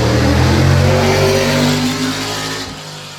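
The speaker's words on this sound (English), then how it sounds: "So this used the Dodge V8 engine, usually used in Formula 5000." A Shadow racing car powered by a Dodge V8 of the Formula 5000 type, running at a Goodwood event, roars loud and close with a steady high-revving drone, then fades slightly as it pulls away.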